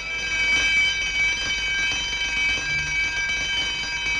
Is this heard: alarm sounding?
yes